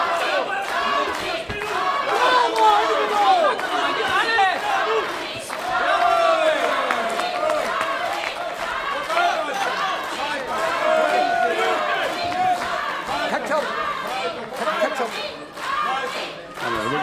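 Spectators at a women's combat sports match shout and roar as a fight between Marie Lang and Ajla Lukac goes on, a loud, continuous crowd din with scattered calls and whistles under a commentator's voice.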